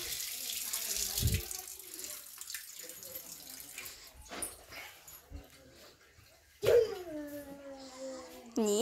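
Water runs from a tap into a sink or basin as a steady wash of noise, with a dog whimpering briefly and other household sounds and voices mixed in nearby.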